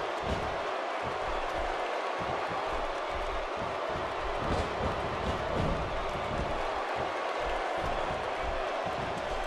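A dense, steady crowd roar from a WWE 2K16 wrestling arena, continuous and loud with swelling cheers throughout.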